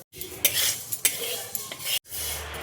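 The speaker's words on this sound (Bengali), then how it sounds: "কড়াইয়ে দেখো এবার মুগের ডাল আমি দিয়ে দিচ্ছি, শুকনো কড়াইয়ে দেখো আমি নেড়ে নেবো" Mung dal is stirred and scraped around a dry kadai with a utensil, giving repeated rough scratching strokes, loud and close, with brief pauses between bursts.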